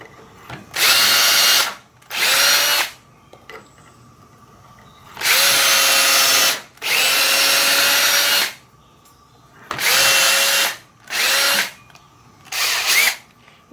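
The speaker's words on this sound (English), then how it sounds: "And once I get these drilled" A power drill bores holes through garage door louvers in seven loud, close bursts of a few seconds each, separated by short quiet pauses.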